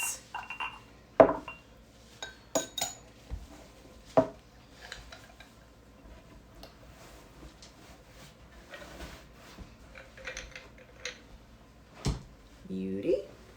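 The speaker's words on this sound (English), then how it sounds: "Going to strain it into a rocks glass or old-fashioned glass over a single sphere of ice." A raspberry and cardamom gin negroni-style cocktail is strained into a rocks glass over a single ice sphere, heard as scattered glassy clinks and knocks of barware at close range, with a brief pouring trickle near the end.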